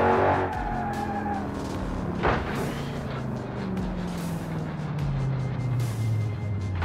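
Tires squeal on an Audi R8 V8 in the BeamNG driving game, long sliding screeches that rise and fall in pitch over a steady engine drone, with a brief thump partway through.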